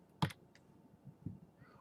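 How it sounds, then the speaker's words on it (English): A single computer keyboard key pressed twice, two short distinct clicks about a second apart, close and fairly quiet against a low background hum. "I'm pressing A on my keyboard."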